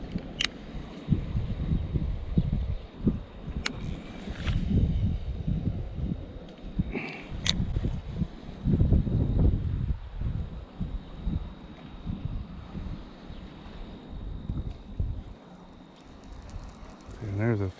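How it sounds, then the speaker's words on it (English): Steady wind buffets the microphone with low rumbling gusts throughout, while someone talks over it. "Windy out here, so it's important to have some good thumb control."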